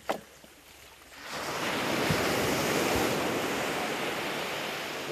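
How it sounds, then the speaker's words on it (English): Ocean waves wash onto Stonehaven Beach in Tobago, a steady broad roar of surf that swells in after a quieter opening second, with wind buffeting the microphone and no voices. "this beach is called Stonehaven Beach"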